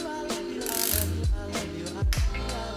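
A ratchet wrench clicks as it torques head bolts on a BMW S54 engine during a rebuild for an E30 swap. The clicking is loud and close, with a few strong pulls and metallic ratcheting between them.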